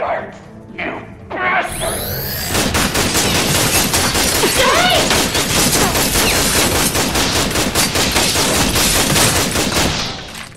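Guards fire guns in the Tales from the Borderlands video game: a dense, sustained fusillade of rapid, loud shots that starts after a short lead-in and runs for about eight seconds, with voices mixed in.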